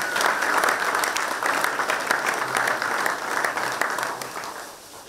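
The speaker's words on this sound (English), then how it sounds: "Let's give them a big round of applause." An audience applauds at a Cal Poly athletics event introducing Mike DeGeorge as the new men's baseball head coach. The clapping is dense and steady, with a few faint voices mixed in, and it fades slightly toward the end.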